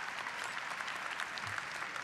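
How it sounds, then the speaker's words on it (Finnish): Audience applause at a Metroareena figure skating competition in Espoo, a dense, steady clapping from a large crowd filling the arena throughout. "Hän on täysin aplodinsa ansainnut"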